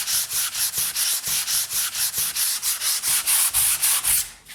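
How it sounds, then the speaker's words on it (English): Sanding dried joint compound on drywall, a loud, close rhythmic rasp of regular back-and-forth strokes, about four per second, steady throughout and ending abruptly, with no voices. "sand it one more time to get rid of any imperfections"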